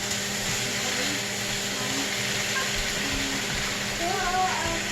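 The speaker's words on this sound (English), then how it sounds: "That chopper that I have really does make it a lot easier" An electric food chopper runs with a steady, loud whirring drone, chopping ingredients for a spaghetti squash lasagna in a home kitchen. The motor hum stays even throughout with no break.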